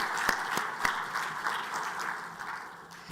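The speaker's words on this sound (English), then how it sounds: "Another round of applause for Mr." Steady audience applause at the official launch of an African cybersecurity community conference, a continuous wash of clapping with a few sharper nearby claps standing out, running throughout.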